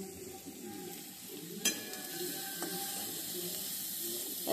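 Chopped onions fry in hot oil in a home kitchen, a steady close sizzle and hiss with a sharp spatter burst partway through; a voice speaks faintly underneath.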